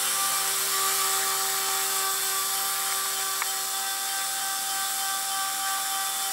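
A Blade 130X RC helicopter hovers and flies steadily outdoors in calm weather, its high, even rotor and motor whine holding constant throughout with faint tonal drones and no talk.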